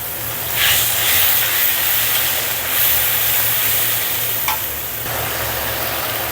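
Ground cumin and a little chili powder frying in a pan, giving a steady broadband sizzle and hiss with a low hum beneath, continuous and close, with a couple of brief stir clinks.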